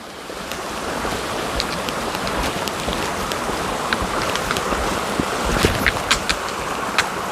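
Steady rushing water of a small stream along the Appalachian Trail, a broad continuous wash heard close and fairly loud with faint splashes and trickles over it and no voices.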